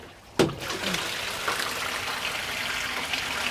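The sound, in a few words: water draining in an IBC container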